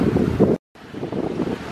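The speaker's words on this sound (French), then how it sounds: "par une belle journée et un bon petit vent, tranquille" Wind buffets a sailboat cruising along the north coast of Batam, Indonesia, in the Strait of Malacca, a loud rumbling gusty roar that briefly cuts out before resuming.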